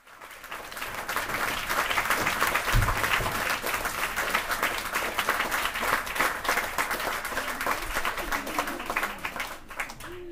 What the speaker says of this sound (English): leading the applause